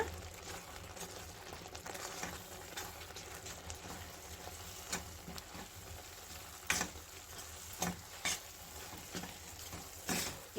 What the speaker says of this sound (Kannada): ಸಕ್ಕರೆ ಮತ್ತು ಬೆಲ್ಲ ಮತ್ತು ಕೊಬ್ಬರಿ ಇರೋ ಪಾತ್ರೆಗೆ ಸೇರಿಸ್ಕೊಂಡು ಮಿಕ್ಸ್ ಮಾಡ್ಕೊಳ್ಳೋಣ